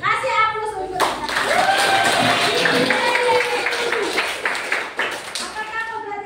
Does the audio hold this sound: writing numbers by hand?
no